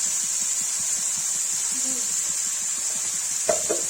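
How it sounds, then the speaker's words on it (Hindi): Onion, garlic, ginger and tomato for a dhaba-style potato and eggplant curry fry in a pan, a steady close sizzle with rhythmic stirring scrapes and a sharp clatter near the end, no voices. "प्याज लहसुन अदरक डालेंगे। भून रहा है"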